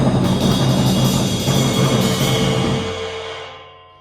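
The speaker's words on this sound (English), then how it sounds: "So all he's doing there is just doing a little roll on the floor," Dense, loud drum roll on a floor tom with a ride cymbal struck from underneath, in a Texas shuffle style, washing cymbal sustain over rumbling toms that fades out over the last second.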